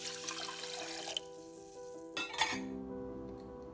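Water poured into a pot for cooking rice for sugar pongal, about three cups to one cup of rice, giving a soft, uneven splashing wash that swells briefly twice before fading, with no talking.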